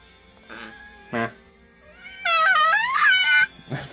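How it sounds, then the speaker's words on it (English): Meowing, cat-like calls indoors: a long, wavering, high call followed by shorter ones, close and fairly loud, with brief voice sounds before and after. "What's the kitty do? What's she do? She goes, meow."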